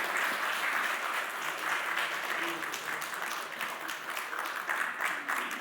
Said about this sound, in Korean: 우리 박수로 격려하시겠습니다